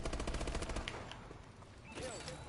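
Gunfire from hip firing in Call of Duty Advanced Warfare, a rapid automatic burst of shots up front followed by scattered game effects, moderately loud with no talk.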